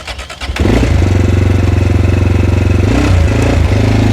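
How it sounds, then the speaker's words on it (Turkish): A Mondial RX3i Evo motorcycle fires up and settles into an idle through its original exhaust, giving a loud, close, deep rumble with a rapid, even popping pulse and a brief blip of throttle near the end. "motorun kendi orijinal egzozunda böyle bir gürleme ve patırtı sesi var arkadaşlar"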